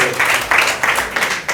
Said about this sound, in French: Alors nous accueillons maintenant là, monsieur le directeur. Voilà. On applaudit.